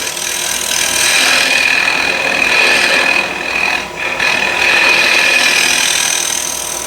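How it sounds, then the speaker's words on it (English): A spur point scraper held flat scrapes a spinning wooden workpiece on a woodturning lathe near a freshly cut tenon, giving a loud, continuous rasping hiss that briefly dips midway before resuming. "So this is how I would use SPUR point scraper. So first I can use it flat"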